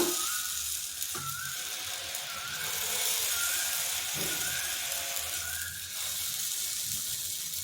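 Oil and bajji dosa batter sizzling on a hot griddle, a steady bright frying hiss with a few soft clicks and scrapes as pieces are placed, moderately loud and close.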